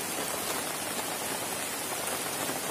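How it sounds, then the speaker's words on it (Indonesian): Continuous outdoor rainfall makes a broad, unbroken hiss of drops pattering on surfaces, steady in level from start to end, with no talking. "Ini posisi lagi hujan teman-teman."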